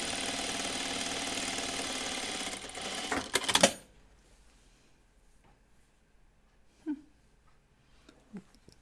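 A sewing machine stitching navy blue fabric runs with a fast, steady mechanical whir for several seconds, ending in a clattering stop, followed by near silence with a couple of faint thumps.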